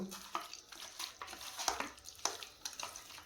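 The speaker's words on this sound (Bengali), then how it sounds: "আর সবার শেষে দেব সর্ষের তেল। দিয়ে মাংসটাকে মাখিয়ে নেব।" Raw meat is worked by hand with mustard oil, producing soft, wet squelching and slapping sounds in an irregular rhythm, quiet and close, with no one speaking.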